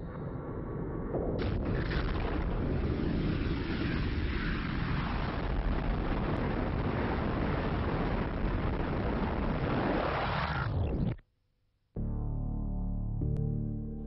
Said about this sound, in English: The universe came into being with the explosion of this point.